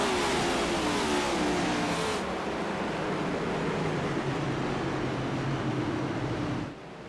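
Stock cars race at Martinsville Speedway in a Cup Series short-track event, a steady loud roar of engines with broadband crowd-and-track noise that thins slightly after two seconds and drops sharply near the end.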